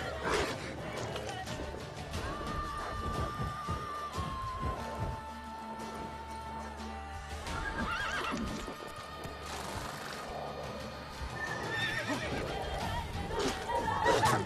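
A horse in The Witcher 3 video game neighs and whinnies several times over clip-clopping hooves, with game ambience and music underneath and no voices.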